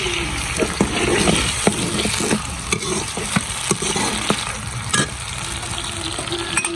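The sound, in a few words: tomatoes and green chilies frying in pan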